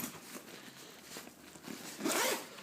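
A zipper on a Demarini Black Ops roller bag being pulled in a few short tugs, close up, ending with a louder, longer zip.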